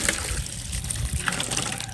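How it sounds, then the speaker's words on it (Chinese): A pig trotter being washed under running water, with splashing and trickling close by, irregular bursts over a steady flow and no voices. "先把这个猪脚洗一下"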